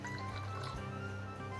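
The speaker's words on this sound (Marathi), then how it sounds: "आपण इथे थोडं थोडं पाणी टाकून व्यवस्थित चांगला मैदा मळून घेऊयात." Water trickles and pours into flour for kneading momo dough, a steady close liquid stream running without pause, fairly quiet, with no talk over it.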